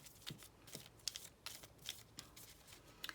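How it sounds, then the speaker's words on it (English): Printed paper candy corn cards are shuffled by hand in quick, soft riffling bursts that repeat at an uneven rhythm. The crisp papery flutter is faint and close, with no talking. "I'm going to shuffle these better"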